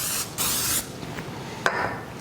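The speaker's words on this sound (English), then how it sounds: "we're gonna go ahead and spray it with a little cooking oil" Cooking oil sprayed from a can onto layered phyllo dough, two short hissing bursts close to the microphone, followed by a faint handling tap.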